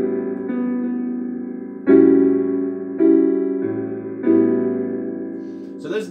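Piano chords from the intro of a song ring out alone, five sustained chords struck at an unhurried pace, each left to decay before the next, with no voice over them.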